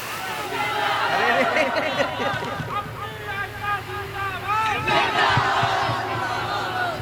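A crowd at an Indian devotional poetry gathering roars a takbir slogan in unison, loud and echoing, in two swelling waves of massed voices.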